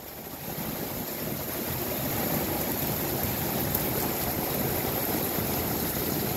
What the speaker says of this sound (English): See how water gets inside the engine?